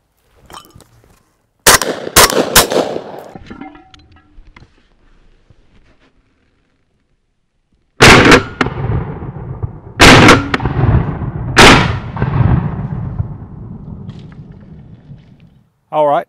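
A .410 shotgun with an improved cylinder choke, set up for turkey hunting, fires at aerial clay targets outdoors: one sharp, loud shot, a pause, then two more blasts in quick succession that ring out and fade.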